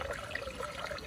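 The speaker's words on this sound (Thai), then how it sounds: "ปล่อยน้ำเอาละครับนี่" Water released from a flooded rice paddy after a storm, pouring out in a steady, close gurgling rush with no pauses.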